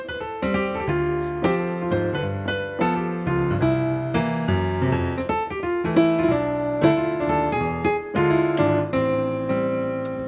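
Jazz piano plays a tune in chord shells and guide tones, with steady, evenly spaced chord strikes and a moving upper line, close and clear with no talking.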